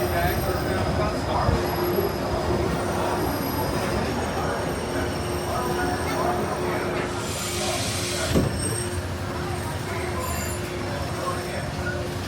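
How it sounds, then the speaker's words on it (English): Disneyland monorail train in motion, a steady rumbling ride with a constant whine and occasional squeal, heard from inside the car at moderate level without clear talk. "Welcome aboard the Disneyland monorail."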